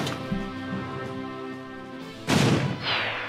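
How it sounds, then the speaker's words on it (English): An explosion in the video game Arc the Lad: Twilight of the Spirits. A sustained tonal hum gives way to a sudden loud, broadband boom, and a second rumbling burst follows shortly after. "At least the explosion wasn't too big."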